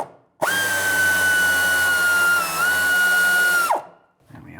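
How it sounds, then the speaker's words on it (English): A power tool spins out a 16mm fuel tank strap bolt on a 2012-2018 Nissan Altima, a loud steady high whir lasting about three seconds with a brief dip midway, then stopping abruptly. "Use a 16mm to remove this bolt."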